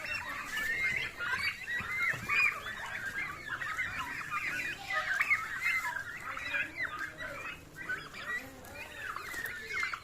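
Turkeys on a farm in Shibganj, Sonamasjid, Chapainawabganj, Bangladesh, fed on grass and maize, call continuously as a flock, a dense overlapping chorus of clucks and gobbling-like calls at steady loudness, fairly close.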